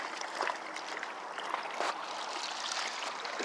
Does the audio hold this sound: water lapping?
yes